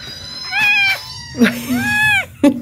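Cats meowing out in the winter cold, several loud, drawn-out close meows one after another, with a voice also heard.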